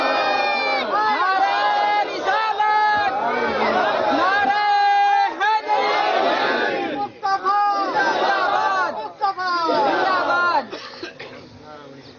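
A large crowd at a religious gathering shouts slogans in unison, repeated loud chanted bursts with brief gaps between them, near and forceful, with voices blending into a roar.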